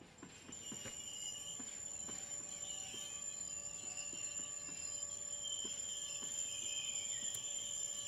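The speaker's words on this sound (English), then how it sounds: "The brake squeal is very good." Train brakes squeal on a class 66 locomotive hauling aggregates in Train Sim World 4, a steady high-pitched metallic whine over a faint rumble, with rhythmic wheel clicks ticking along the track throughout.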